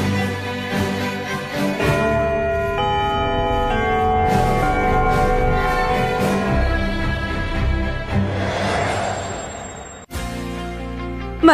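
A school bell rings to start an exam, its sustained metallic ringing holding steady for several seconds, fading slightly, then cutting off abruptly before a brief, quieter tonal tail.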